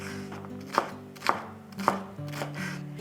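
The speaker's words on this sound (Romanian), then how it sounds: "Și îmi place să toc ardeiul și ceapa în cubulețe micuțe." A knife chops bell pepper and onion into small cubes on a cutting board, three sharp, evenly spaced strikes rising clearly over a low background hum.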